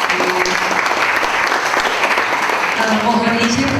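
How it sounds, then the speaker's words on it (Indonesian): An audience at a school ICT training session claps steadily, a dense sustained applause close by with a few voices faintly mixed in toward the end. "Boleh tepuk tangan semuanya."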